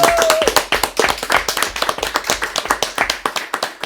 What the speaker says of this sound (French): un gros applaudissement quand même pour Léna, c'est son anniversaire